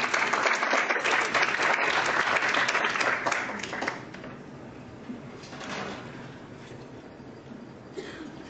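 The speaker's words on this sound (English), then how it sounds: "please welcome her with a round of applause" Audience applause at the 30th SAACI Annual Congress welcoming speaker Priscilla Naidoo, a dense loud burst of clapping that fades after a few seconds into quieter scattered claps and room noise.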